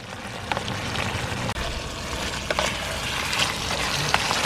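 Rohu fish and prawns fry in a hot pan outdoors in the rain, a steady broadband sizzle and hiss with faint scraping stirs now and then, close and unbroken.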